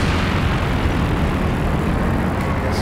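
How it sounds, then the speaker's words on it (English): A mortar shell bursts amid the din of a WWII strategy game battle, a dense, rumbling roar of sustained blast noise that holds steady throughout with no pause. "I think there's a mortar shell as well"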